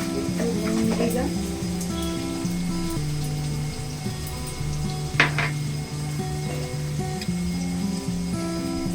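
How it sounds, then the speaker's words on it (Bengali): Vegetables frying in a pan for a Bengali pabda fish curry, with a steady sizzle under clinking pots and utensils and a voice talking throughout. "হাত লাগালাম আনাজগুলো ভাজতে।"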